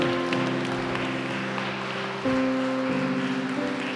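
Worshippers at a church service applaud and acclaim, steady clapping blended with sustained keyboard chords that shift pitch a few times, moderately loud with no speech over it.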